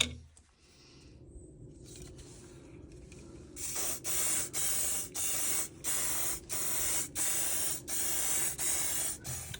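Lacquer sprayed from an aerosol can onto screws from a Tama Granstar drum, about ten short hissing bursts in a regular rhythm after some quiet handling noises, close and fairly loud.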